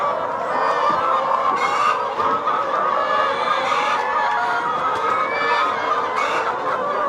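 A large flock of chickens on a 2000-bird poultry farm in Uganda keeps up a dense, continuous chorus of clucking and murmuring, loud and close, with no one talking.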